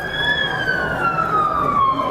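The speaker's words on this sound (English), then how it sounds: "I don't know if you're able to hear the sirens through my mic or not" Emergency vehicle siren near a high school football stadium, a single wailing tone gliding slowly downward over crowd and traffic noise, fairly loud and continuous.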